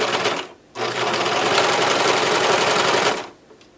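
A serger sewing machine stitches a seam in one steady burst of about two and a half seconds, a loud, fast mechanical whir that starts and stops abruptly, close up with no talking.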